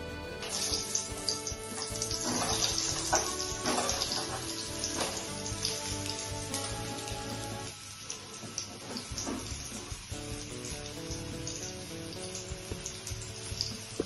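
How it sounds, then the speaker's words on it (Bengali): Potato pieces frying in hot oil in a pan for a Bengali mutton dak bungalow dish, a steady close crackle and patter like rain, loud and continuous with brief dips, no talking. "এইভাবে আলুগুলোকে ফ্রাই করে নিচ্ছি আমি।"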